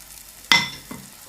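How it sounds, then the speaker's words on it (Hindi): Batter hitting a hot pan over a medium gas flame: a sharp sizzle bursts up as it lands, fades, then a second, softer hiss follows a moment later, close and clear with no talk. "2 कड़छी भर के बैटर को डालना है और गैस के फ्लेम को मीडियम रखना है"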